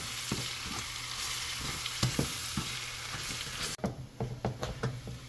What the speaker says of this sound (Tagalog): yung bawang niya iluto na kasunod na yung sibuyas